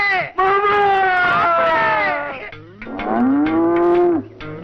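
Two long, loud bellowing moos from a water buffalo, close by, the second one lower and drawn out.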